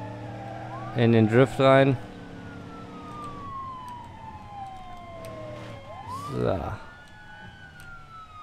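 A police car siren in the BeamNG.drive driving game wails with slow falling and rising sweeps, heard at moderate distance under a game car's engine, while someone speaks briefly in German.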